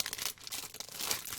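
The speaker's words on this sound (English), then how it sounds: "I'm going to open my hard drive case" Hands open a hard drive case at a desk, making close crinkling, tearing and crunching noises of plastic and packaging in quick irregular bursts, with no talking.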